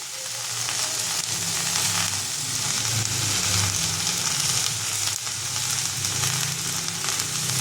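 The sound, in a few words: kharkol leaves being stirred and frying in oil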